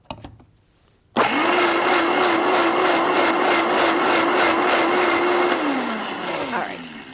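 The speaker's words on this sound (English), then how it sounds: "basically we're just going to put this in our high-speed blender." A high-speed blender whirs loudly and steadily as it purees cooked beans with a little broth, starting abruptly after a quiet moment and running for several seconds, its motor pitch wavering and dropping slightly near the end.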